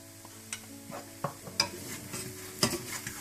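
Aloo paratha frying in butter on a pan, giving a soft, close sizzle broken by scattered sharp clicks and light scrapes, with no one talking.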